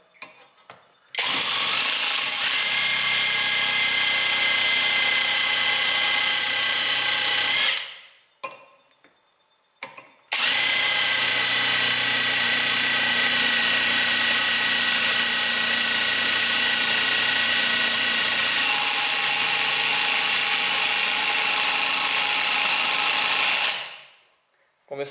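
A power drill runs with a 5 mm drill bit in two long, loud, steady whining bursts separated by a brief pause with light knocks, close by and with no talking.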